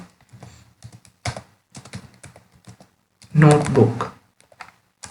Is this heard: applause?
no